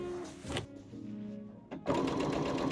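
A sewing machine runs a seam along a skirt waistband, buzzing steadily in two bursts separated by a brief pause, close and fairly loud with no talk.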